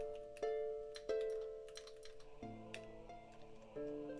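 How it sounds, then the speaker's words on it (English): Someone types on a computer keyboard, producing a handful of scattered, faint keystrokes with irregular gaps between them. "Oops. Bad typing."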